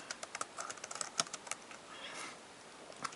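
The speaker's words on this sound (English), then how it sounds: "I'm going to type some text matter." Fingers type rapidly on a computer keyboard up close, producing quick irregular clicks that thin out near the end, with no talk.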